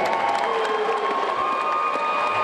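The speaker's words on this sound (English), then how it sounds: "one more round of applause for these welterweight warriors." Crowd cheering and applause at a mixed martial arts event after a welterweight bout ends by guillotine choke tap-out, a steady dense roar with whistles and shouts throughout.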